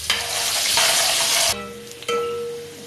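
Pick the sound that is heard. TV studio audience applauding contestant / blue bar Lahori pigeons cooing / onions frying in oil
onions frying in oil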